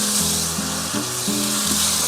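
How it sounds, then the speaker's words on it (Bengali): Tomatoes fry in mustard oil in a wok with a steady, close sizzle. Soft stirring scrapes and a few low tonal layers run beneath it throughout. "টমেটো সিদ্ধ না, কিন্তু টমেটো হচ্ছে ভাজি।"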